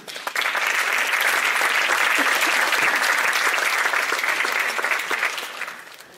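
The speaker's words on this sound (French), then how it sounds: "vous pouvez les applaudir à nouveau" Loud, sustained audience applause at a film festival opening, a dense wash of clapping that swells in quickly, holds steady, and fades toward the end.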